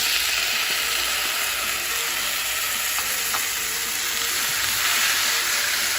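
Garlic and tomatoes frying in oil for fermented mustard-green gundruk soup, a loud, even hiss of sizzling with occasional stirring clinks, close up and without talk.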